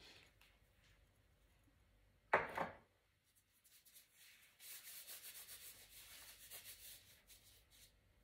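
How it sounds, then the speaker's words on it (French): Rice is washed by hand, with a sharp clatter of grains followed by a run of soft, repeated rubbing and swishing strokes, faint and close, with no voices. "on va aller laver le riz"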